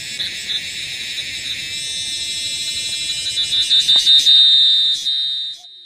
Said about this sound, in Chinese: 雄性的蝉是昆虫中唱歌最卖力的